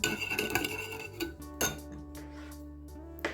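A spoon clinks and scrapes against a bowl several times in quick succession while mixing a dressing of vinegar, olive oil and salt, fairly close and quiet, then a few sharper taps toward the end.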